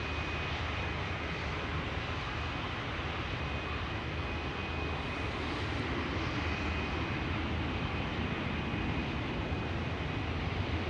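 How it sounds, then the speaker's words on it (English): An Airbus A350 wide-body jet takes off at Schiphol Airport, a steady broad engine roar that holds loud and even throughout, with no talk over it. "The A350 has taken off."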